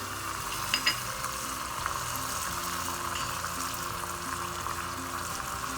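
Red chili flakes and curry leaves hit hot oil and sizzle vigorously, a dense crackling spatter close by with a couple of sharp pops near the start, then a steady loud fry with no talk.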